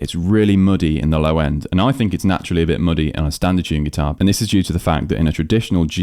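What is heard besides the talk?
No distinct noise like a dog, phone or traffic.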